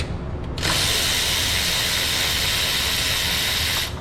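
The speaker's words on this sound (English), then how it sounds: "Can I use my electric ratchet?" An electric ratchet spins bolts loose on a 5.7 HEMI engine during cylinder head removal, a loud, close, continuous whirring buzz that starts abruptly and runs steadily for about three seconds before cutting off.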